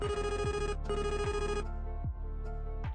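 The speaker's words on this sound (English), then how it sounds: "When the maximum operating airspeed is exceeded, an aural warning is activated by the CCAS." An aircraft overspeed aural warning from the CCAS, sounding when maximum operating airspeed is exceeded: a loud, continuous, bright electronic ringing tone with steady repeating pulses, heard alone.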